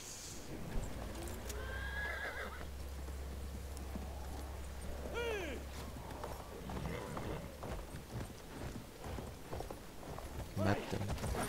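Horse in the video game Battlefield 1 whinnying in a sharp rising neigh, with hoofbeats and battle noise around it while players talk over the action.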